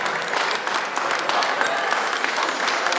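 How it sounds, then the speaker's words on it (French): A carnival crowd claps for the volunteers, sustained dense applause with scattered cheers and voices mixed in throughout. "je vais vous demander sincèrement de les applaudir"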